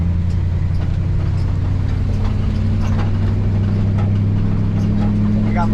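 A rough-running Chevrolet Suburban squarebody truck, abandoned and not shifting gears, drives along with a loud, steady low engine drone and interior rattles, heard from inside the cab.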